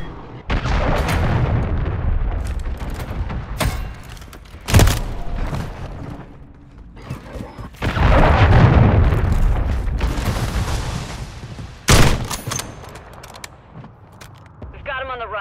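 Deep booming cruise missile explosions and gunfire in a Call of Duty: Modern Warfare 3 multiplayer Hardpoint match, with heavy blasts at intervals over rolling rumble and crackling shots while a voice talks underneath.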